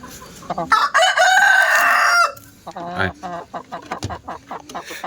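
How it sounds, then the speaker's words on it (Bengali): Hill chickens on a farm: a rooster crows loudly and close for about two seconds, followed by a series of short clucks from hens nearby. "ডিমে আসবে ককর করতেছে"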